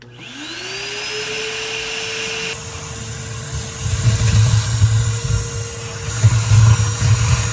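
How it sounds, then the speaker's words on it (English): A shop vacuum whines up to full speed and roars steadily, with gritty rattling bursts as sand from a pool filter is sucked through the hose. "now we're gonna go ahead and turn on this shop vac and just vacuum all the sand out"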